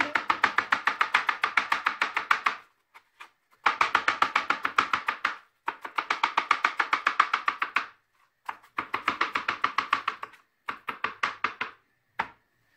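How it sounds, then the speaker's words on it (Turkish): A knife chops onions on a cutting board in fast, steady bursts of sharp knocks, five runs of rapid strokes separated by short pauses, close and clear with no talking. "soğanları doğradıktan sonra arkadaşlar şöyle bıçağınızın bir tarafından tutarak"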